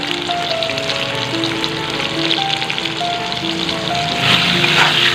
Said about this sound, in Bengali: তো নুন আর হলুদ দিয়ে আলুটা একটু লাল লাল করে ভাজি